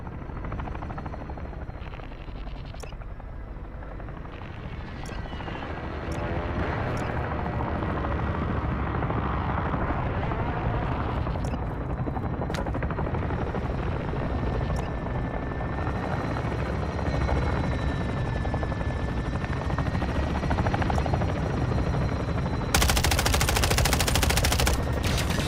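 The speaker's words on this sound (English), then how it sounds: "that's the attack chopper shooting at me" An attack helicopter in Call of Duty: Warzone roars loudly and steadily with its rotor throb while sharp bursts of gunfire crack through at intervals, ending in a louder burst.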